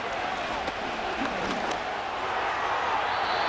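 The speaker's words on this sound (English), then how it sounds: "this crowd making it hard to hear" A loud football stadium crowd at an NFL game between Cincinnati and another team, a steady, dense roar of many voices that holds at a constant level with a few faint shouts standing out.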